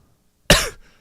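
A single sharp cough from someone recovering from an illness bursts out close by on a podcast, brief and loud, then trails off into quiet.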